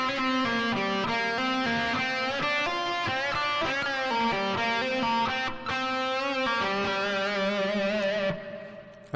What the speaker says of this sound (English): It's a very atypical quick lick that he plays in G using his quick hammer-ons, pull-offs and bends